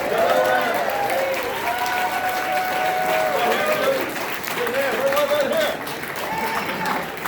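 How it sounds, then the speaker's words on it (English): Applause fills the room at an Andrew Yang campaign rally in Las Vegas, steady clapping from a crowd with voices talking and calling out over it. "Let's give them a round of applause"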